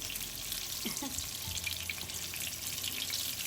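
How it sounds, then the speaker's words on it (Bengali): Brinjal slices fry in oil in a pan with a soft, steady, hissing sizzle, heard faint and unbroken throughout. "আমার বেগুনটা প্রায় ভাজা হয়ে গেছে"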